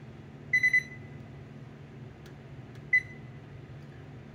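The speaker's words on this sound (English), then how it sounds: "Now you're going to turn your oven on." A kitchen oven is switched on, giving three quick high beeps and then one more single beep a couple of seconds later over a low, quiet hum.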